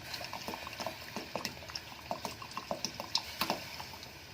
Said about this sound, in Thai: กะทิเริ่มเดือดนะคะ